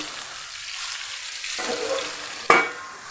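Teasel gourd with grated coconut stirred in a hot pan, a soft steady sizzle with a spoon scraping through, followed by a sharp clack of utensil against the pan near the end.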